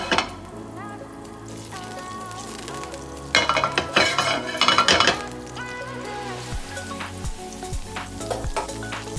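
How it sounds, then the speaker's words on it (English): Butter melting in a frying pan before veal saltimbocca is cooked, giving a steady close sizzle with a louder burst of frying crackle and a few light clinks of a utensil against the pan. "Nice dob of butter. Wait for this to melt."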